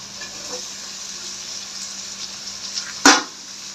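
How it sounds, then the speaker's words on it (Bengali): Steady soft sizzling of potatoes, onions and slit green chillies frying in a pan over low heat, with a brief sharp clatter near the end. "এবার আস্তে আস্তে ভাজবো আঁচ কমিয়ে দিয়ে দিয়ে আস্তে আস্তে ভাজবো"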